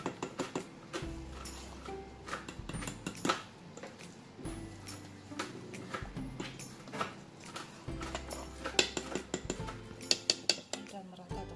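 Banana cake batter stirred by hand in a bowl, a spoon scraping and clinking against the sides in a steady repeated rhythm, fairly close, with quiet voices now and then.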